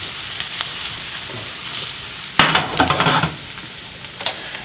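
Mushrooms sauté in butter in a pan, a steady close sizzle that swells into a louder rattling burst of frying as the pan is shaken, then settles back, with no voices.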